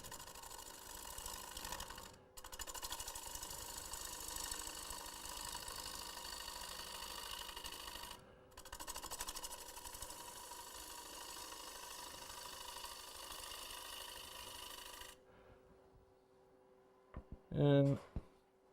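A woodturning lathe hums steadily as a tool makes a bevel-riding push cut on a wooden seed jar, a continuous whirring drone with two short pauses, ending in silence and a brief clatter.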